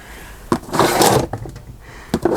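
A drawer slides open and shuts during a search for sewing needles, a close wooden rumble and bump followed by sharper knocks, with no talking.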